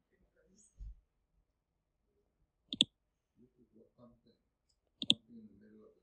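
A computer mouse clicks sharply twice, a few seconds apart, close and crisp in an otherwise quiet room, with a calm voice narrating software steps between and after the clicks.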